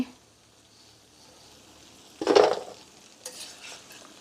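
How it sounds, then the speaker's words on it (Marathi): Shankarpali, a sweet layered pastry, deep-frying in oil: a low, quiet bubbling sizzle, then a sudden louder burst of crackling halfway through, followed by a smaller flare of sizzle as the pieces are moved. "अजून एक दोन मिनटं मी तळून घेते म्हणजे कलर थोडा चेंज होईल"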